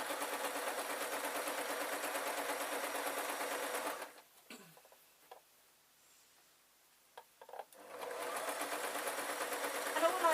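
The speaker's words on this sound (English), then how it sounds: "I'm going to sew round the top here." A sewing machine stitching around the top of a gypsy top, a steady fast close whirring hum that stops for a few seconds of quiet with small clicks, then resumes.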